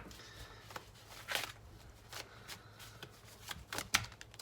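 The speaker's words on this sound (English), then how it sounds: "I have cards flipping over left and right, cards jumping like crazy" Tarot cards shuffle faintly and close up, making soft riffling sounds with a few sharp flicks as cards spring out of the deck.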